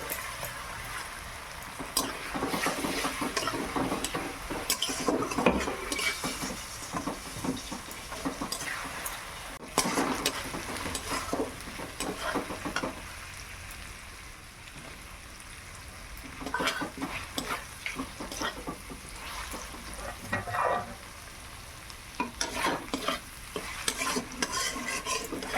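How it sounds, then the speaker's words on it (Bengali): Ginger-garlic paste frying with onions in a pan crackles and spits under repeated spatula stirring, with bursts of scraping and clatter that come and go over a softer continuous sizzle, close and fairly quiet. "আদা রসুনটা ভাজা হয়ে গেছে"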